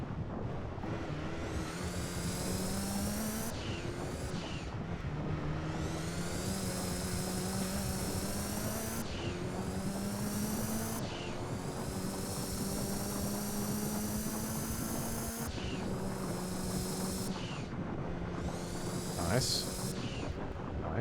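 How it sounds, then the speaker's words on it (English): Racing car engines in the PlayStation game Gran Turismo 2 rev up in repeated rising whines with thin, airy intake noise, each climb cut off by a gear change and the next surge, continuous and loud throughout. "These cars just sound like they're sucking air through a straw."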